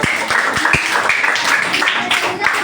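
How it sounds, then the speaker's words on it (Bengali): Hands clap together in a loud, quick, irregular patter close by, with a few sharper individual claps standing out as the clapping runs on without pause. "হাততালি দাও"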